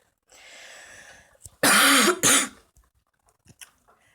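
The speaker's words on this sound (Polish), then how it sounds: "Sorry, ale tu tak trochę kaszle." A couple of loud, harsh coughs burst out close by after a stretch of quieter breathy noise, followed by faint small sounds.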